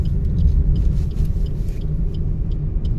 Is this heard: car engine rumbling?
yes